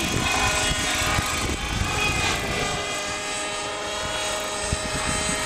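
A small NHC RC helicopter's buzzing rotor drones steadily and loudly nearby, fluctuating slightly as it hovers and moves.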